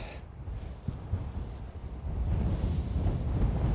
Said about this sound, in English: this wind's strong